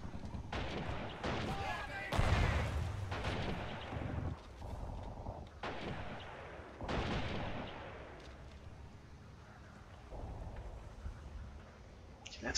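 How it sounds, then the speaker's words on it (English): Battle in the video game Men of War: Assault Squad 2, Russian campaign: a grenade blast and artillery-like booms mix with scattered gunshots, some heavy thuds up close, others fainter, spread across the scene. "You guys, throw a grenade over there to destroy that cover."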